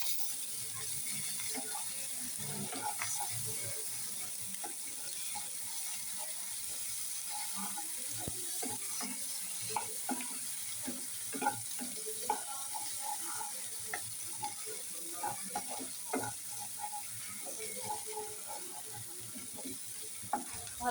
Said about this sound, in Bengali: ভালো করে টমেটোগুলো দিয়ে ভালো করে মাখিয়ে নিব।